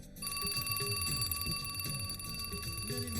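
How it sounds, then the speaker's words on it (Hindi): An alarm clock rings loudly and continuously nearby, a rapid metallic trill that runs unbroken from start to finish with nothing else heard. "अलार्म तो ऐसा होना चाहिए कि पड़ोसी भी जाग जाए, बिल्कुल इसकी तरह।"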